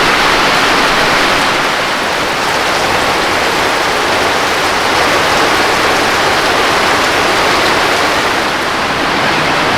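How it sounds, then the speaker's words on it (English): Heavy rainstorm during the East African rainy season in Sipi, Uganda, pounding on a thatch and corrugated tin roof: a loud, dense, unbroken roar of rain that stays steady throughout. "Just when I think the rain can't get any harder, somehow it manages to do so."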